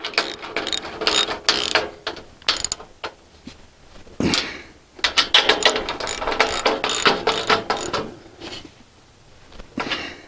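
A ratchet tightening a solar panel mounting rail: bursts of quick clicking pawl strokes, close and fairly loud, pausing briefly between runs of turns.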